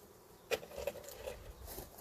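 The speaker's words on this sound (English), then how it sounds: "got some guard bees on me" Honey bees buzz close around an opened beehive during a honey harvest, a soft, fluttering drone with one sharper buzz passing near the microphone.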